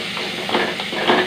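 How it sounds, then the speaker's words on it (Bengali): Chopped onion frying in an open pan for dal, a steady close sizzle with soft stirring scrapes pulsing through it. "এরকম করে একটু ভেজে নিতে হবে।"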